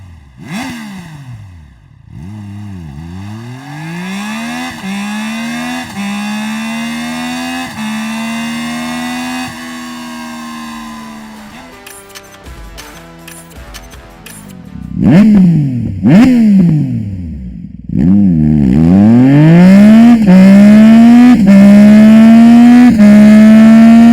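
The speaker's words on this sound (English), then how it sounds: "First up is the Triumph's inline 3 engine, with stock and aftermarket exhaust." Engine of a 2024 Triumph Daytona 660, an inline-three sport bike, heard with stock and then aftermarket exhaust: repeated loud revs climbing and falling, idle burble between, a sharp flurry of blips midway, then louder, harsher sustained revving.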